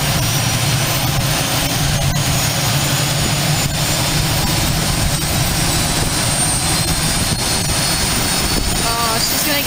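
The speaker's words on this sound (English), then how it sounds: "She's gonna power on." Loud, steady aircraft engine noise fills the scene at Aurora Municipal Airport, a dense roar with whining tones, as engines spool up close by; voices are faintly present.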